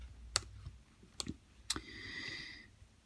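Computer keyboard being typed on, three isolated sharp key clicks spaced apart, close and clear, followed by a faint electronic tone.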